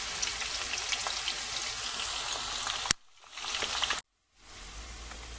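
Blended onions, garlic, Scotch bonnet and ginger sizzle and crackle steadily in a frying pan, the hiss broken by a couple of abrupt pauses as they are stirred.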